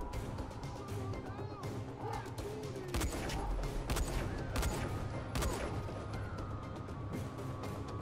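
Gunfire pops and rattles in repeated sharp shots during combat in the video game Dying Light: The Following, set against a steady bed of game noise at a moderate, somewhat distant level.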